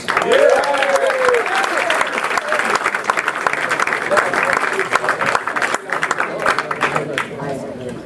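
Audience applause at a comedy graduation showcase: a loud, sustained burst of clapping from a crowd, with some cheering and voices mixed in, tapering slightly toward the end.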